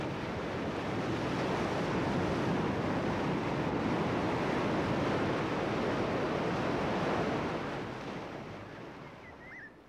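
Ocean surf rolls onto a coastal shore as a steady, loud roar of breaking waves with wind noise, easing slightly near the end, with no voices.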